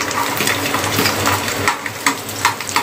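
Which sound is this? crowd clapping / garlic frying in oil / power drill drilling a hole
garlic frying in oil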